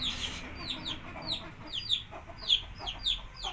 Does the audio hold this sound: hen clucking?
yes